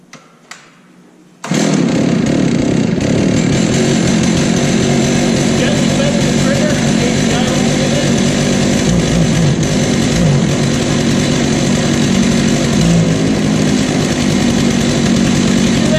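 After a quiet moment with a few clicks, a chainsaw engine fires up and runs loud and close at a steady high idle for the rest of the clip.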